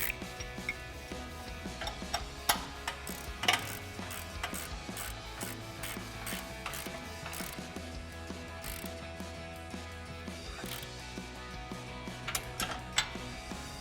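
A ratchet with a 19mm socket tightens the mounting bolts on a front bumper being fitted to a 2013-2018 RAM 1500 truck, giving steady close-up clicking in repeated strokes with occasional louder metallic knocks and no speech.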